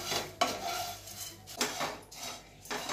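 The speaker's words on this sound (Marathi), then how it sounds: "हे जे पोहे आहेत ना ते आपण हलकेसे भाजणार आहेत" Flattened rice (poha) is lightly dry-roasted in a pan, heard as close, intermittent scraping and clinking strokes of a utensil against the metal, fairly quiet.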